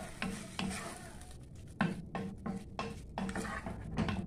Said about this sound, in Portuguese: Refoga tudo. Essa soja já está cozinhada, viu?